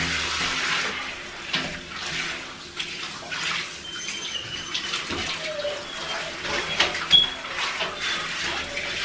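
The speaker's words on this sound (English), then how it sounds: "Come on, George, let's get in here so we get the front rinsed off" Water runs steadily into a bathtub as an 8-week-old Great Dane puppy is rinsed, a continuous splashing wash with a few brief knocks and squeaks, close and fairly loud with no talk.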